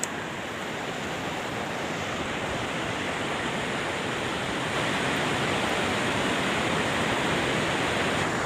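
River water rushes in a dense, unbroken roar heard from the middle of a suspension bridge over the river, loud and steady throughout with no voices.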